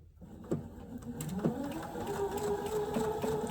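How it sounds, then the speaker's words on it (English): A sewing machine stitches quilt block seams for a Corn & Peas quilt block, running as a steady mechanical whir with a few louder clunks near the start, close and continuous with no talking. "I like to sew with all those other seams up so I can make sure they don't get folded back"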